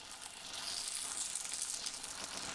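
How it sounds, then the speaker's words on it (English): Lentil and greens pancake batter sizzles loudly in hot oil in a pan, a dense bright crackle and hiss that holds steady throughout, close by with no talking. "Can you hear that sizzle? That means the pan is ready."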